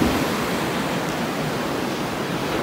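Ocean waves wash onto a beach in a steady, dense roar of surf, fairly loud and continuous throughout, with no voices.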